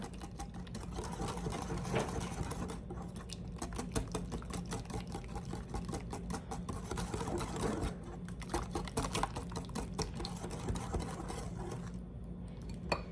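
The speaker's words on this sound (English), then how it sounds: "We are going to mix all that together well." Egg and vanilla being mixed together for banana muffin batter, a busy, steady whirring clatter that runs without pause from start to finish.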